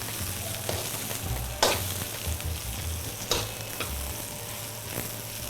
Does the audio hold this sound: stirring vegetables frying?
yes